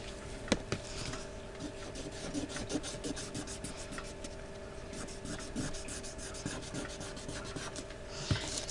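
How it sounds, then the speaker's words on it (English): Paper edges of a collage postcard being distressed by rubbing and scraping, a steady close raspy scuffing that runs throughout with small sharper ticks. "I'm just going along, distressing the sides"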